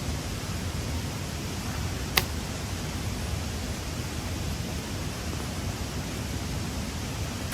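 Continuous roar of rushing water, dense and unbroken throughout, with one brief sharp click partway through.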